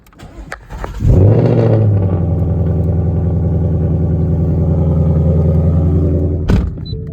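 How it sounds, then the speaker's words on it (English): A 2020 Ford Mustang GT with stock exhaust and an X-pipe cold-starts with a short crank and loud catch, then settles into a deep, steady, rumbling high idle close by, with a brief thump near the end. "My Mustang sounds so good right now. Stock exhaust with the X-pipe, and it sounds phenomenal."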